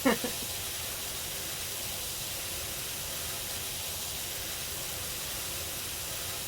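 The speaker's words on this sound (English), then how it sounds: "all this is just the sounds of water spray hitting the different surfaces" A steady, even hiss of spraying water hitting surfaces in the video game Power Wash Simulator runs throughout, faint and unbroken, after a short knock at the very start.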